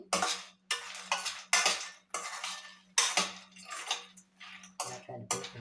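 A spoon stirring roasted phool makhana mixture in a bowl, a close, rhythmic run of scraping clinks repeating about every half second, with no one talking.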